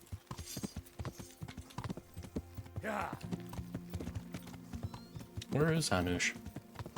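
Horse hooves clip-clop steadily through a medieval game world in Kingdom Come: Deliverance, a close, rhythmic trotting that runs under a voice and other talk, with a brief whinny-like burst near the end.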